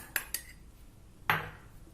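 A spoon clinks sharply against a cup or bowl while red-brown sugar is stirred into hot water: two quick taps, a pause, then one louder ringing clink, close and without speech.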